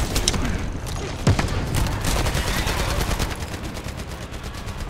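Dense, loud video game gunfire, a near-continuous fusillade of rapid shots from a shooter game, keeps going for the whole stretch with a heavier boom early on.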